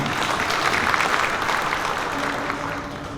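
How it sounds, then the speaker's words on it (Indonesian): Audience at a Bali provincial legislature (DPRD) session applauding during the governor's speech, a steady, full wash of many hands clapping with no break. "Tepuk tangan untuk Bali"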